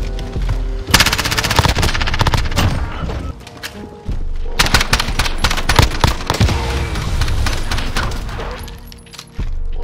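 Rapid automatic fire from an MP7 submachine gun in a Search and Destroy match of a shooter video game, with loud bursts and thuds through most of the stretch and a short lull partway.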